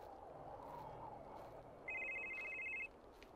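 A smartphone ringtone sounds in the horror video game Psych, a single bright electronic ring lasting about a second, faint and thin over a low ambient drone.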